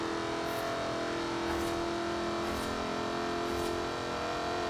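Jaguar Project 7 sports car driving in the video game Forza Horizon 4, a steady droning engine note held throughout with a few brief bright bursts roughly once a second, with no voices.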